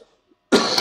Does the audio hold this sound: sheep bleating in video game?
no